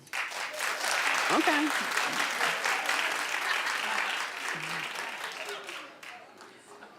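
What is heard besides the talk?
studio audience applause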